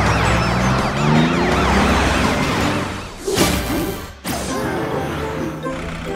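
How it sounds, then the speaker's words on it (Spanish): A cartoon police super truck in the Car City World mobile game wails its siren in loud, rapidly sweeping tones, briefly interrupted by a couple of crash-like bursts before the siren continues. "¡Enciende la sirena, supercamión policía!"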